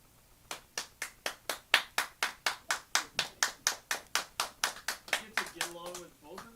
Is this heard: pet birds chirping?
no